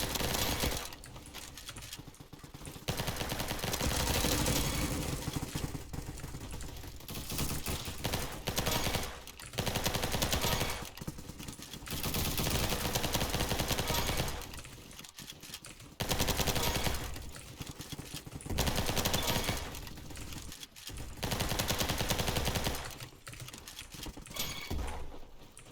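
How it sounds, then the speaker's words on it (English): A Tommy gun fires in a video game in long rapid bursts, a dense rattling stream of shots broken by short pauses, loud and close throughout with no voices. "Tommy gun."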